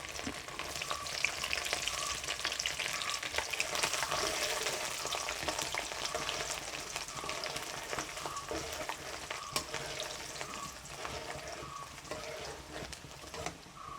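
Garlic, about 100 grams, frying in hot oil after mustard seeds have popped, for a chicken pickle: a steady close sizzle with light stirring and scraping running throughout.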